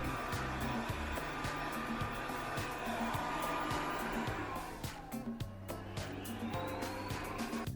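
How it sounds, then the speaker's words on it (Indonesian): Umeda Tomo R8 robot vacuum cleaner running, a continuous whirring motor hum with shifting pitch and intermittent clicks and knocks as it moves, close and fairly loud with no talk. "kita juga bisa mengontrol robot vacuum ini langsung dari ponsel kita"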